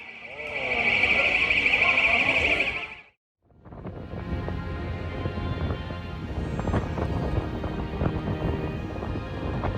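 Alarm blaring during a 6.2 magnitude earthquake in Istanbul, a loud steady tone for about three seconds that cuts off abruptly, followed by a noisy mix of street commotion and rumbling.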